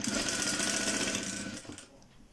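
A sewing machine stitches a round neckline, running fast and loud with a dense, steady mechanical rattle for about two seconds before slowing and stopping.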